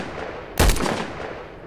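A single loud gunshot from the video game STALKER goes off close by as one sharp, booming blast that fades over about a second, with no voices heard.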